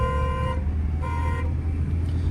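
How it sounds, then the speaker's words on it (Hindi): Two steady car horn blasts sound close up over a low engine rumble, the first about half a second and the second a little longer. "लॉन्ग हॉर्न प्रेस करो"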